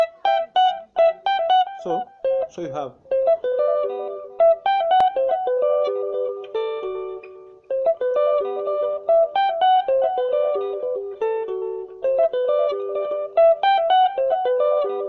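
Guitar picks out a bright, clean single-note melody, crisp plucked notes in a lilting repeating pattern, alone except for a few brief spoken words near the start.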